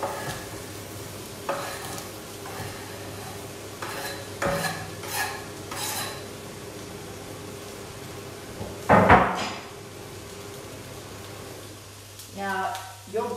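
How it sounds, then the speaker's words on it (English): Vegetables tipped into a pan and stirred, a steady low sizzle under intermittent scraping and utensil knocks, with one louder clatter midway and a steady background hum. "I'm going to bring the veg over now. And we're going to go straight into the pan."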